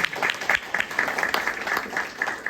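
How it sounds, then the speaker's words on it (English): Applause from an audience at a community voter forum in Madera, California, a short spell of irregular clapping with distinct individual claps standing out, fairly close and moderately loud. "Round of applause for yourself"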